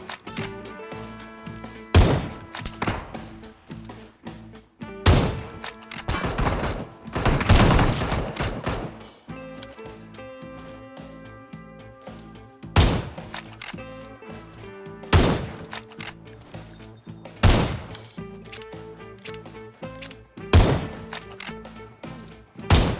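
Gunfire in the PUBG Mobile video game, with loud bursts of rapid shots and single sharp cracks spread across the whole stretch, set against game ambience and clutter, with no voices.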